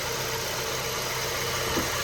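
The engine of a 2012 Honda Civic idles after an engine flush, giving a steady, low, even hum with a faint mechanical whir close by. No voices are heard.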